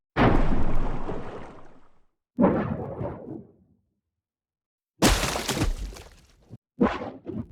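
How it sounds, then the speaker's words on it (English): Several heavy, processed splashing impacts, each trailing off in a warbling, wobbly tail, separated by short silences. "I've also made some nice wobbly tails from the water impact using Chorus"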